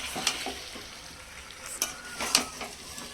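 Chicken pieces being stir-fried in oil in a home kitchen for biryani, a steady close sizzle with a few sharp scraping stirs of the spatula, no talking.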